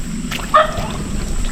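A dog gives a single short whimpering yip near a stream crossing with bamboo, one brief tonal cry rising above steady outdoor background noise.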